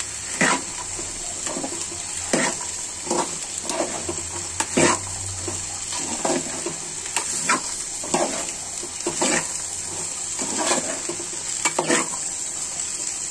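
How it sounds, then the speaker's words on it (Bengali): Chickpeas frying with ground spices in a home kitchen pan, a steady close sizzle with repeated scraping stirs of a spatula sounding every second or so, no voices. "ছোলা ভাজি হচ্ছে।"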